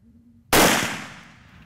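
A single sharp, loud rifle shot fired at a water buffalo on a hunt in Australia cracks out of near silence, then its echo fades away over about a second.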